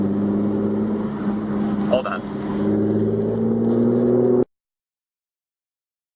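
A Lotus Evora V6 fitted with a louder aftermarket exhaust drones at a steady, throaty pitch with a brief spoken remark over it, then cuts abruptly to silence.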